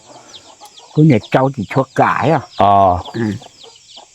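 Chickens kept on the lower floor beneath a stilt house, a series of close, loud clucks and squawks in quick succession, with someone talking around them.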